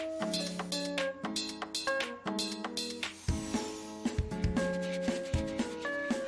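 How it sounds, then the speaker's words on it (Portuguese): A freshly cut piece of wood is sanded by hand to align it, rapid rubbing strokes in an irregular rhythm, close and clear, with sharp scrapes and no talk over them. "Depois de cortada, vamos lixar para alinharmos."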